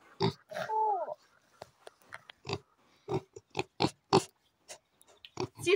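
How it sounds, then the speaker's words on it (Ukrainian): Pig grunts and snorts, several short bursts with a longer squealing grunt near the start, close by and fairly loud, with brief pauses between. "І от таку ми хрюшку займіли собі в хазяйстві."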